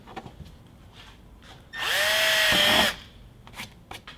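Close power drill whines up and bites through car plastic in a single loud burst of about one second, rising in pitch as it spins up, with quieter handling noises before and after.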